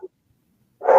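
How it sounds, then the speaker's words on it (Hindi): A dog barks once, loud and close, in the final moment, after a tiny clipped sound at the very start and near silence in between. "पीछे कुत्ते भौंक रहे"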